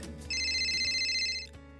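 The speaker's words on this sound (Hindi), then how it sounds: "एक दिन कनिका के फोन पर एक कॉल आता है।" A cartoon phone rings with an incoming call: one bright electronic ringtone burst lasting just over a second, sitting over a soft background tone.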